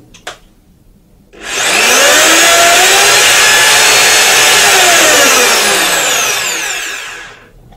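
A Zubr ZP-32-1100K SDS-plus rotary hammer runs in reverse: a click, then the motor spins up to a loud, steady high whine held for several seconds before winding down, close and alone.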